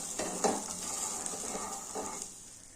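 Soaked chickpeas frying in a little oil with salt, a soft steady sizzle broken by a few scraping stirs of a spoon against the pan, close and fairly quiet, with no voices.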